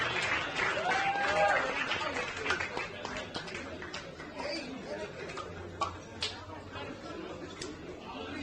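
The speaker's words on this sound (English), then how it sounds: "give him another round of applause" Applause from an audience at a racing awards grand final celebrating category winners, a steady patter of clapping with crowd chatter and a voice over it.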